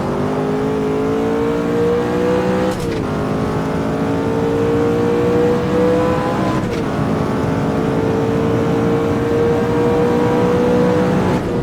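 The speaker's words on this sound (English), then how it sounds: "Give it a nice blip to make it settle on the downshifts." A McLaren F1 in the racing game Automobilista drones loudly and steadily throughout, with two sharp throttle blips on downshifts breaking the engine tone, no voices over it.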